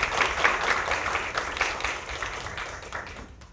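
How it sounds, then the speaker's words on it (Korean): An audience at a university policy forum in Seoul claps briefly for the opening speaker, with dense, moderately loud applause that fades toward the end. "큰 박수 부탁드립니다."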